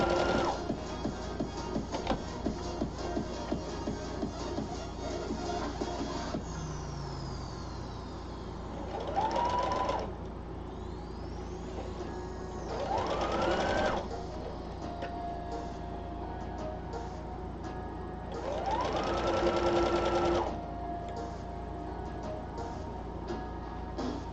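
A sewing machine stitches a dress in bursts of motor whir with gaps between, set against a steady mechanical hum and ticking in a quiet room.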